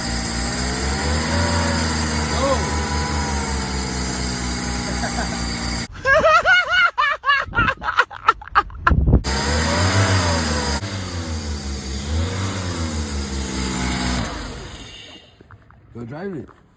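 A Mercedes 190E, restored after five years of sitting, idles roughly and revs in sharp bursts with the throttle worked by hand, engine close and loud, with people talking over it throughout.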